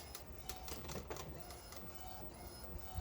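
Printer feeding out a page while printing, a busy run of mechanical clicks, rattles and whirring bursts at moderate distance, continuous and fairly quiet.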